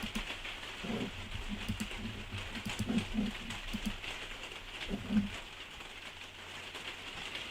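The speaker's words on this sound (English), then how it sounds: "Rain sounds bad." Steady rain falling outside during a Manchester City versus Burnley match, a dense, even hiss throughout with a few faint low thuds and no voices.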